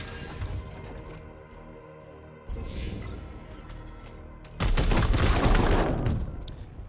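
Video game battle gunfire in Warhammer 40K Daemonhunters, dense overlapping shots and explosive bursts that swell into a loud sustained barrage near the end, with no talk.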